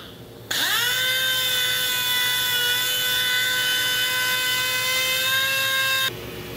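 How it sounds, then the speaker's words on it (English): A dual-action sander whirs as it sands wood, starting up abruptly and holding a steady high-pitched whine before cutting off, loud and close with no talk. "quickly did them with the DA and then following up hand sanding"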